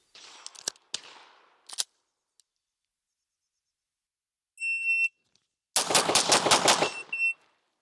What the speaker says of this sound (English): we are going to shoot twice per target, 3 targets, so we'll have 2 transitions and a draw